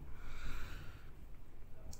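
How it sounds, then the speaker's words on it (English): Someone with the sniffles sniffs and snorts, giving a few short nasal draws that sit close and fairly loud in a quiet room. "I'm sorry if I have the sniffles."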